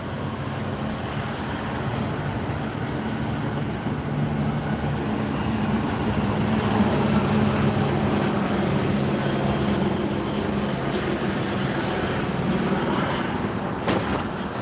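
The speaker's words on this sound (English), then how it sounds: "Still a helicopter circling around City Hall." Helicopter circling over City Hall in downtown Los Angeles, a steady broadband rotor and engine drone with a low pulsing hum, continuous and moderately loud over city background noise.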